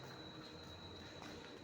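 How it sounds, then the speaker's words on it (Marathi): A train pulls into a suburban railway station at night, a steady broadband rumble of wheels and carriages filling the scene with a constant rolling roar and no talk. "ट्रेन आली वाटतं आता."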